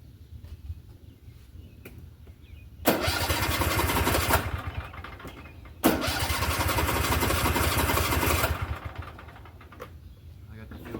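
A Cub Cadet XT1 50-inch riding mower with a running issue cranks in two long, loud bursts of starter grinding, each cutting off without a clean start, close by. Brief speech comes between the attempts.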